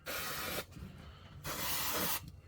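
Two long, steady hissing bursts from a spray can sprayed over CA super glue on hardwood, each lasting most of a second, with a quiet pause between them.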